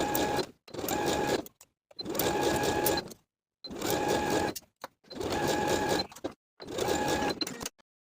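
A sewing machine stitches around the bottom band of a wrap top in five or six steady, buzzing runs, each about a second long, separated by short silences. The sound is close and clear, with no voices.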